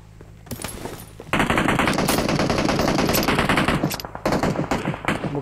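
Rapid automatic gunfire in the battle-royale game PUBG Mobile, beginning as lighter shots and swelling into loud, sustained bursts that keep rattling for several seconds with only brief pauses.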